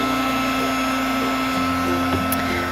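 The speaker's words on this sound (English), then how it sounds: "I don't really want to burn my fingers on my heat gun." A heat gun blows steadily up close while embossing a handmade card, its motor and airflow making a constant loud whir with a faint tonal hum, alone without talk.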